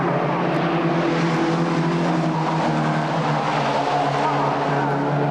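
Formula First racing cars roar past on a circuit in a continuous loud engine drone, the note shifting as they go by, with a race commentator talking faintly over it.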